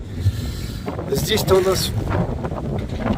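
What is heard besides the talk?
strong wind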